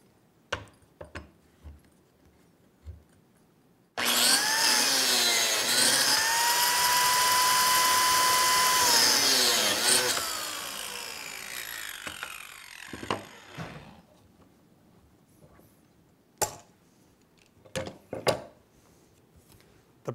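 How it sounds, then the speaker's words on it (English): A biscuit joiner cuts slots into wooden leg and rail stock in a woodworking shop, a loud high whine that spins up, holds steady for about six seconds and winds down, framed by soft handling clicks and thumps. "biscuit joiners are a little louder than cordless drills"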